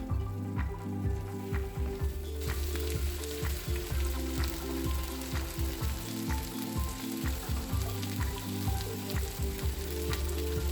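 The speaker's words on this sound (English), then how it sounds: "I am just flipping the salmon." Salmon seared in a pan and flipped, a steady close sizzle with dense crackling spits, a few louder pops and clatters of the turner mixed in, and a low background hum running throughout.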